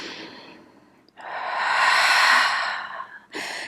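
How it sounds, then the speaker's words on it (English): A long, forceful breath pushed out through the nose or mouth during a yoga breathing sequence, a close breathy hiss that swells and fades, followed by a shorter sharp breath. "Inhale. Exhale."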